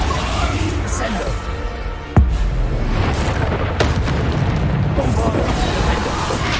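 A Bombarda spell explosion in Hogwarts Legacy lands as one sharp, deep boom, surrounded by continuous loud game battle noise and a voice calling out.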